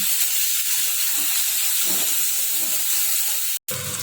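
Tomato and onion paste hitting hot oil in a pan gives a loud, continuous sizzling hiss that fills the whole moment, with no talking.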